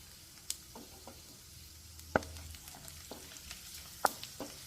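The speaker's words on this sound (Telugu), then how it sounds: "ఇప్పుడు రెడ్ చిల్లీ, పోపు గింజలు వేసేసుకుందాం." Red chillies and tempering seeds frying in hot oil for an aavakaya rice recipe, giving a soft steady sizzle with a few sharp crackles and pops spaced out over the few seconds, no voices.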